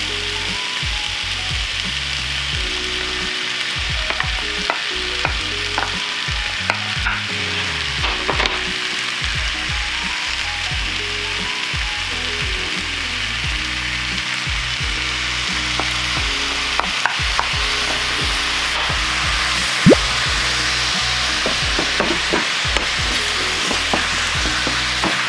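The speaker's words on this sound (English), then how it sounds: "I'm going to cook these up for about 5 minutes before adding the sauce." Vegan chicken pieces and half-cooked vegetables stir-frying in a pan, a loud constant sizzle broken by frequent scraping and clacking from a spatula against the pan, close up with no voices.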